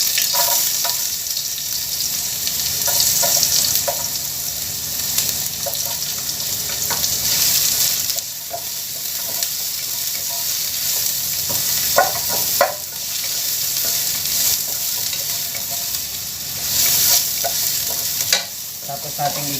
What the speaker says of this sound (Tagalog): Tapos natin igisa ang luya guys.